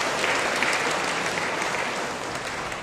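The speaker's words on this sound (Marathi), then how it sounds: "तुमच्यासाठी टाळ्या" A church congregation at a Catholic Advent service applauds, a thick continuous wash of clapping at full volume that fades slightly toward the end, with no voices heard over it.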